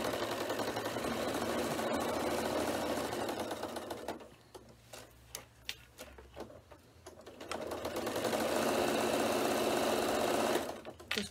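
A sewing machine stitches steadily along the edge of a bag, running continuously, pausing briefly with a few light clicks, then whirring again at full speed close up.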